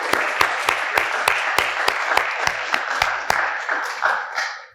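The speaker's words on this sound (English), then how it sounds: "please help me welcome them here with a round of applause." An audience at a climate lecture on local government claps to welcome guests, with loud, dense applause over a strong rhythmic beat of near, sharp claps that fades out at the end.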